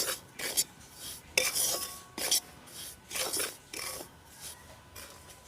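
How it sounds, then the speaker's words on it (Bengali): Semolina (suji) roasting in a pan over very low heat for halwa, heard as repeated dry scraping and rasping strokes of a spatula, about eight bursts in a steady rhythm, close and fairly quiet with no talk. "সুজিটা দিয়েও প্রায় দু মিনিট মতো আমি ভেজে নিয়েছি"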